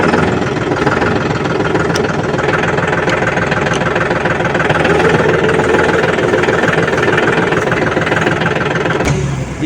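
A tractor engine runs steadily close by, a loud, continuous diesel chug with a rough knocking texture throughout.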